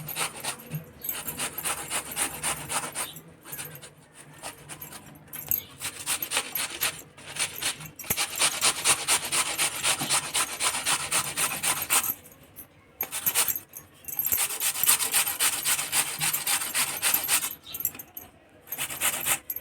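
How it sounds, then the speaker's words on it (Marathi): Cucumber rubbed against a hand grater in a kitchen, a close rasping scrape repeated in bursts with brief pauses between strokes. "बघा ही काकडी आता ही पिसून घ्यायची पिसणीवर पीस काढून"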